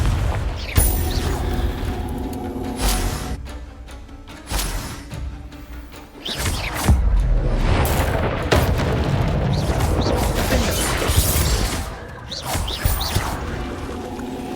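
Spell blasts fired in the Hogwarts Legacy video game, a rapid series of loud booming explosions with crackling bursts and debris, repeated every second or two over a busy battle din.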